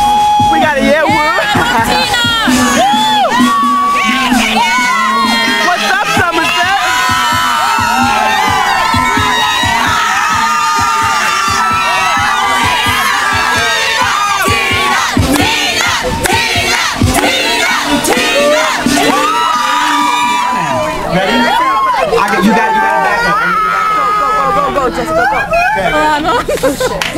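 A large, loud crowd at a high school in Florida cheers, whoops and shouts continuously, with dense babble and voices over music throughout.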